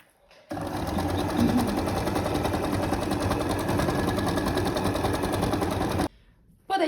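A sewing machine stitches the crotch gusset of men's boxer shorts, running in one steady, rapid rattling burst for several seconds before stopping, loud and close with no talk.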